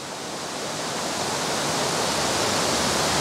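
Dense, steady roar of a landscape waterfall, broad and hissing with no breaks, growing slightly louder over a few seconds.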